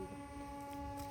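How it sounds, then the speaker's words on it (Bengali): A local train arrives in a rural Bengali farming village, its steady, faint droning hum holding a few sustained tones throughout, with no voices. "ট্রেন এসছে দেখো"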